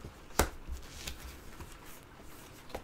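Tarot cards are dealt and counted one by one, giving a sharp snap near the start followed by softer, quiet card slides and flicks.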